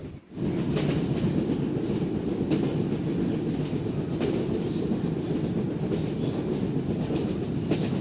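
Steady rumble of a train rolling along rails, heard from inside a carriage, continuous and fairly loud throughout with faint rhythmic clatter and no talking.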